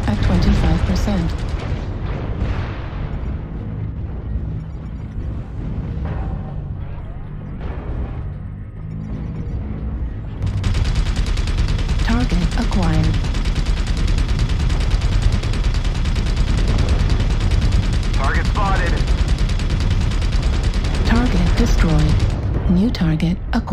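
Video game combat rumbles with machine gun bursts and heavy artillery fire, a dense, loud roar that thins briefly midway before surging back, while a voice speaks intermittently over the din.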